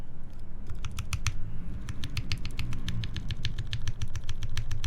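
Keycaps and switches on a mechanical keyboard clack in rapid, uneven bursts of typing, close and crisp, with a low hum underneath and no talking.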